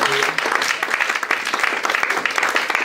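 A church congregation applauds at a service in praise of the Lord, a dense, steady wash of clapping that runs loud and unbroken from start to finish.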